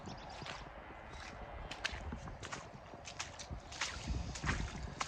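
Feet splashing through standing water and mud on a farm by the old pig pen fence, a run of wet sloshing steps that grows louder and heavier toward the end.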